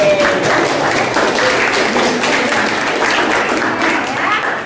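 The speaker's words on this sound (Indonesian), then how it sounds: "Kita tepuk tangan." A class bursts into loud, continuous applause at the end of a lesson. Many hands clap in a thick, even roar close by, with faint voices mixed in.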